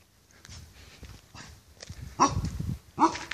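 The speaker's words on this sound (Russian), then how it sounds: "Ой, собачка." Dog at a beekeeping and horse-breeding department building, a few short, fairly close barks and growly sounds near the end after quieter shuffling.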